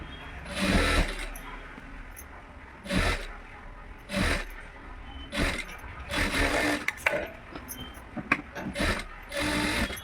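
A sewing machine stitches an embroidered blouse in short repeated bursts of rapid mechanical whirring, each run lasting a second or so and separated by quieter pauses, close and clear.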